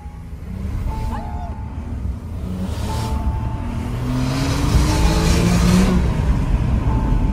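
A Porsche Carrera accelerates hard, its engine note climbing in pitch and growing louder over several seconds against steady road and wind noise.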